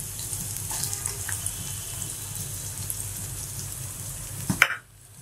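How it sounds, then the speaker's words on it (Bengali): Chopped onion and garlic frying in hot oil for a Pakistani nihari, a steady close sizzle with a sharper crackling burst near the end before it abruptly drops away. "দিয়ে দিচ্ছি পেঁয়াজ কুচি, আর দিয়ে দিচ্ছি রসুন কুচি।"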